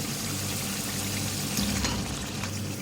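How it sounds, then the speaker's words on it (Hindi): Water pours steadily into a pan of fried potatoes and onion masala for potato curry, a continuous close splashing trickle with no talk. "1/4 कप पानी डाल दूँ इसमें"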